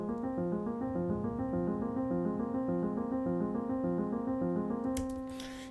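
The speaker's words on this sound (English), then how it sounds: "I use another Steinway piano too, this time with no reverb at all." A dry Steinway piano with no reverb plays a steady repeating arpeggiated figure in the low and middle register in even rhythm, close and continuous, ending with a brief noisy burst and no talking.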